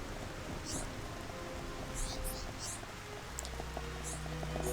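Heavy rain falling in the video game Xenoblade Chronicles Future Connected, a dense, steady hiss of downpour that continues without a break through the whole stretch, with a low rumble running underneath.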